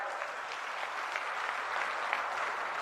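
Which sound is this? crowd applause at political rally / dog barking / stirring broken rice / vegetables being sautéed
crowd applause at political rally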